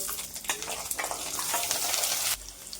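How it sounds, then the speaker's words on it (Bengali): Cut potatoes fry in hot oil tempered with black cumin for a ridge gourd and potato posto dish. A close, busy sizzle with a few stirring scrapes stops abruptly near the end. "2 মিনিট আলুটা ভেজে নিব।"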